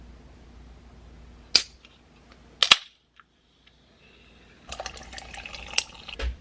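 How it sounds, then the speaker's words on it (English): A can of Ningxia Zing caffeinated drink is opened close up: two sharp metallic cracks of the tab about a second apart, a short quiet gap, then a soft fizzing hiss of carbonation. "Can opening ASMR."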